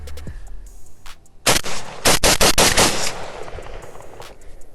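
A Zastava ZPAP90 rifle fires off the rest of a polymer magazine: a loud, close string of sharp shots in quick, slightly uneven succession, with quieter outdoor ambience before and after.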